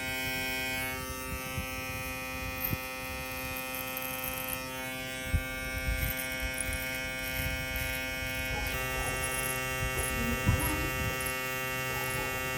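An MRD Smartbrain X Pro hair clipper fitted with an Echo blade runs with a steady, loud electric buzz and hum close to the microphone, with faint crunching ticks as it cuts.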